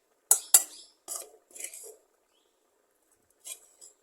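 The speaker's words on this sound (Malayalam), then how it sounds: "ഇനി നമുക്കിതൊരു പാത്രത്തിലേക്ക് കോരി മാറ്റാം." Cooked lentils are scooped from a pot into a vessel with a spoon: a few sharp metallic clinks and scrapes in a short cluster, then a pause and two softer taps, close and quiet between.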